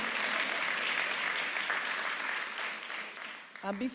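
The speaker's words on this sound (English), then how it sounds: "You can clap for that, that's fine too." An audience at a superintendent's state of the schools address breaks into steady applause that fills the room at moderate loudness. Near the end the clapping thins out and a speaking voice comes in over it.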